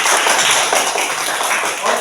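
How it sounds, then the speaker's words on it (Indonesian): A classroom group applauds a student team after its presentation, a dense burst of many hands clapping together at close range, steady and fairly loud for a couple of seconds. "Silakan tepuk tangan buat kelompok 1."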